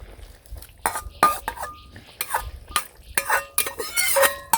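A metal utensil stirs fish curry with tomato and garam masala in a pan while roasted cumin powder goes in. Close scraping strokes and clinks against the pan come in short irregular bursts, with a faint sizzle underneath.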